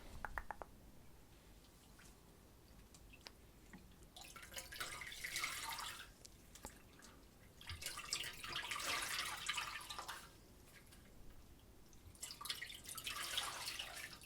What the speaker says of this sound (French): il faut tremper, essorer, tremper, essorer